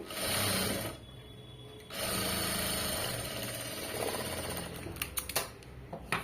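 A sewing machine runs a top stitch along cloth while attaching a small frill, a steady close whirring that pauses briefly near the start, then resumes and ends in a few short bursts.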